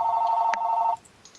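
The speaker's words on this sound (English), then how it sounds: "pick up the phone." A telephone rings close by, a single steady electronic trill lasting about a second before it cuts off, leaving quiet room tone.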